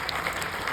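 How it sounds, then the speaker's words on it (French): Audience applause at a hypnosis show, a dense steady patter of many hands clapping together throughout the short burst, moderately loud with a faint crowd murmur underneath. "Vous pouvez les applaudir."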